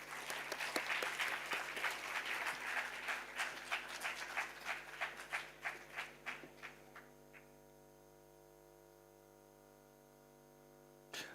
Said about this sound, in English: So I kindly urge all of you to have a thunderous applause for Dr.